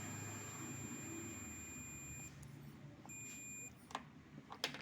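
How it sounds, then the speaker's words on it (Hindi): A multimeter on continuity test gives a steady electronic tone while two wires are shorted together. The tone holds, breaks off, comes back briefly and stops again, with quiet background noise and a few clicks. "इस दोनों वायर को हम शॉर्ट करेंगे और यहाँ पे पीप की आवाज़ आएगी"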